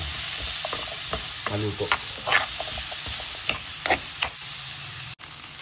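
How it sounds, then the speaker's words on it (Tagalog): Squash (kalabasa) sizzles in a frying pan for pinakbet as it is stirred, with soft clinks and scrapes of the utensil over a steady fry; a brief word is spoken. "Tapos lagay mo na yung kalabasa mo."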